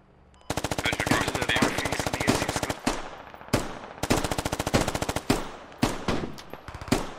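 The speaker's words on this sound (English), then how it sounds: "I love the sound of the CAD rifles" Automatic rifle fire from CAD rifles in the tactical shooter game Squad: long rapid bursts of close, loud gunshots broken by short pauses, with faint voices in the background.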